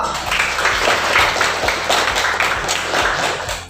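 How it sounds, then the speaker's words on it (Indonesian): Sustained clapping from a group in a classroom, dense and steady throughout, fairly loud and close, with no talking over it. "tepuk tangan untuk kita semua"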